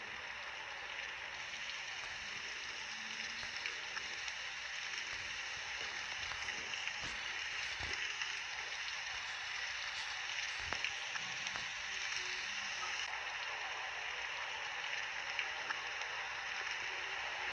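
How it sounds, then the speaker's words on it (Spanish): Rain falls in the Free Fire video game as a steady, soft, broadband hiss with scattered faint ticks, continuous and even throughout, with no talk over it. "Se puso a llover."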